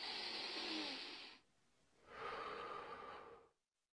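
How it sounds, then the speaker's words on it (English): Heavy breathing close up: a long loud hissing exhale, a brief quieter pause, then another strong breath before it cuts to silence. "I'm trying to concentrate on my breathing here."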